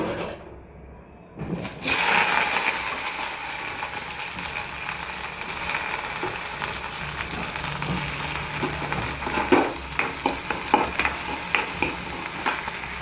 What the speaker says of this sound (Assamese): তেলতে নহৰু জলকীয়া দি দিওঁ।